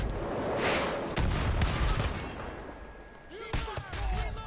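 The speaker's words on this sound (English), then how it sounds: "Okay, this gunfire's too slow." Gunfire in the video game Far Cry 5, a few scattered shots and booms amid game noise and effects, with a voice talking over parts of it.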